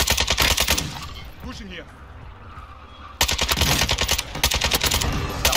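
RPK light machine gun fire in Warzone 2, sounding as rapid close bursts of automatic shots that stop for a quieter stretch and then resume hard, with a player talking briefly over the action.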